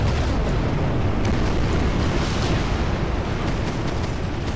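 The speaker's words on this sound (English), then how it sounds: "The infantry starts taking some shots with RPGs and throwing their grenades" RPG fire and grenade blasts from infantry in the real-time strategy game War Game: European Escalation merge into a dense, continuous battle roar, loud and unbroken throughout, with no talking.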